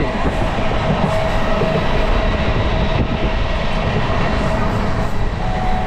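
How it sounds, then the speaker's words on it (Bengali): A Shantipur local train runs alongside on a parallel track, heard from inside a moving express as a loud, steady rumble and rush of wheels and air with no pauses, close and continuous throughout. "পাশ থেকে শান্তিপুর লোকাল যাচ্ছে।"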